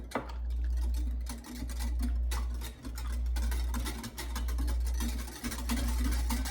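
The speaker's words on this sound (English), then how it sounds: "I'm going to take the whisk and I'm going to whisk this all together" A whisk stirs the two yogurt ingredients together in an Instant Pot, making a quick, steady ticking and scraping against the pot over a constant low hum, with no talking.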